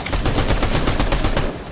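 Rapid automatic gunshots in Fortnite Chapter 5, a loud, close, evenly spaced burst of about a dozen shots with nothing else around them.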